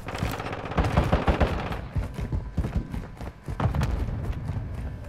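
Rapid gunfire from a scoped shotgun in the video game Modern Warfare 2, a dense run of close, loud shots in quick uneven bursts with short gaps.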